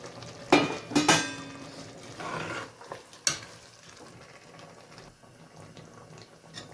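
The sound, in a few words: adding yogurt to biryani masala while cooking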